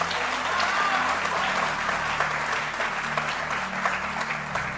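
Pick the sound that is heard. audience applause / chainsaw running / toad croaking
audience applause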